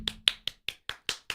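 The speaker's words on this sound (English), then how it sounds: "Lots of clapping." Seven sharp hand claps land in an even, quick rhythm, close and crisp, with a brief low hum underneath at the start.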